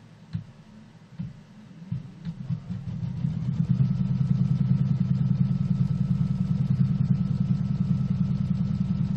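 A home sewing machine runs steadily, stitching down a strip of quilting fabric; after a couple of soft clicks and taps it settles into a loud, continuous low-pitched motor hum.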